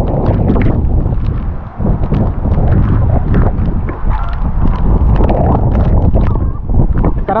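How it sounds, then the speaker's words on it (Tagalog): Strong monsoon wind in the mountainous highlands of Santican, Danao, Cebu roars and buffets hard against the microphone in a constant loud rumble, with brief dips and gusts and no clear speech over it. "Malakas yung hangin dahil sa habagat"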